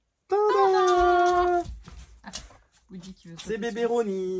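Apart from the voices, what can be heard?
cat meowing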